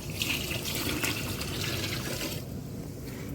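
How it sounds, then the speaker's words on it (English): Water pours steadily into a cooking pot for quinoa, a close, continuous splashing stream that thins and trails off near the end. "let's add some of the water first so we can start our quinoa"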